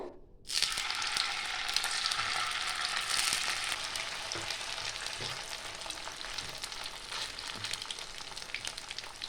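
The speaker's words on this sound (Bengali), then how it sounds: "একে একে আমি ভেজে নেব এগুলো।" Steady, loud sizzling of flour dough balls frying in hot oil, a continuous crackling hiss that begins abruptly and carries on with no voices.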